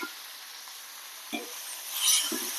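Cluster beans stir-frying in a pan, a soft steady sizzle with a few distinct scrapes of a spoon stirring through the beans, close and without voices.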